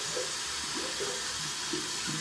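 Running water from a tap rinses a shaving razor and blade, a steady close hiss of flowing water broken by a few light splashes and clinks.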